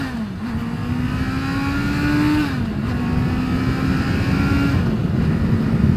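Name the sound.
Honda CBR650R motorcycle accelerating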